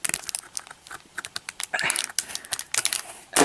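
Scissors snip and crinkle into a plastic blind bag toy package, a quick run of sharp cuts and rustling close up.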